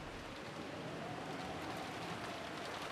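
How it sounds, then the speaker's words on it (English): Steady, dense rain from the Umineko visual novel, an even wash of falling water that holds at a constant level throughout, with no voices over it. "it was very quiet, filled only with the sound of rain"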